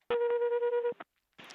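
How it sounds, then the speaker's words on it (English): An alarm in an airport control tower sounds as a single loud, steady electronic tone lasting just under a second, followed by a short blip and then a burst of noise. "You can hear the alarm bell going off in the tower."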